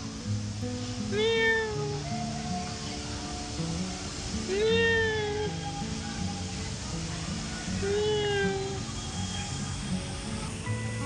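A pregnant cat meows three times at regular intervals, each call a clear rising-falling cry over a steady low rumbling background hum.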